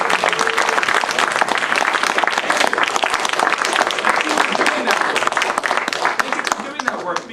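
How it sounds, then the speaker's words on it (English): At a campaign school gathering, an audience applauds loudly and continuously, with dense, close clapping sustained for the whole stretch and a few voices mixed in. "Please, give them a round of applause."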